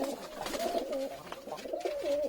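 Pigeons coo in a pigeon loft, soft rolling throaty calls repeating in overlapping phrases close by, with no talking.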